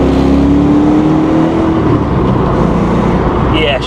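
Stock Ford Foxbody Mustang accelerating while driving: a loud, steady engine drone that climbs in pitch for about two seconds and then settles into a continuous roar heard from inside the car.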